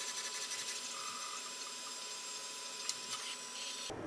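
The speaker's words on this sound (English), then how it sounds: "the printer will print off a test print" A printer-cutter runs a test print with a steady whirring mechanical hum and carriage motor whine, broken near the end by a couple of short clicks before the motor stops.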